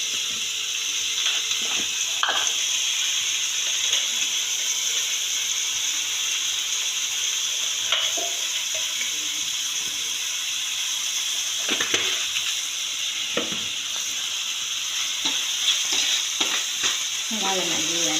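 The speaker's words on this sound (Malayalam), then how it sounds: "സവാള നല്ലോണം ഇളക്കി കൊടുക്കുക." Onions sautéed with salt in a frying pan for egg roast, a steady loud sizzle broken by scraping stirs of the spoon against the pan at irregular intervals, no talk.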